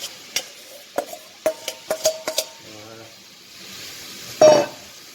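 Apples dropped into foaming melted butter in a pan for a tarte tatin, giving a string of close clatters and knocks followed by a soft sizzle and one brief louder hiss near the end.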